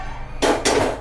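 A metal cooking pan with a freshly cooked semolina dish is lifted off the stove and set down, making two quick, sharp clanks close by.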